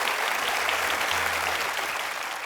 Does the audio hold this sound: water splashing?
no